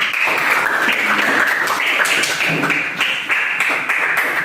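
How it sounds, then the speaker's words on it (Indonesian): Applause rings out for a student group in a classroom lesson, a steady dense wash of clapping from a small crowd lasting several seconds without a break. "Silakan beri aplaus untuk kelompok"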